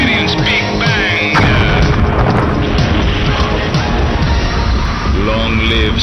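Big Bang explosion boom sound effect: loud, dense rumbling blasts and crashes that fill the whole clip, with swooping whooshes and layered impacts throughout.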